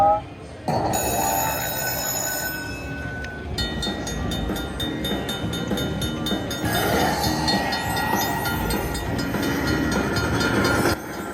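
A Buffalo slot machine at a Las Vegas casino plays a bright, jingling train bonus tune with bell-like chimes and train rumble effects, continuing steadily over casino background noise.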